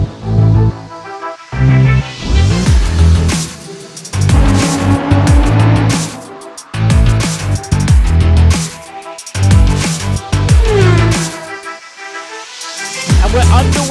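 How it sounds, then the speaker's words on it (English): Race cars in a racing video game launch off the grid at the start in Italy, engines revving hard and shifting through gears in loud repeated surges, layered over one another with tyre noise, while a commentator talks throughout. "We're underway and racing."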